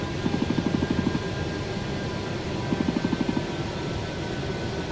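Steady broadband jet engine roar inside a Dassault Falcon 50 private jet cockpit, with two short bursts of rapid rhythmic ticking or clicking over the constant drone.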